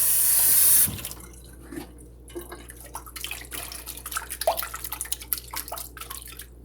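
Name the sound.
cold water running from tap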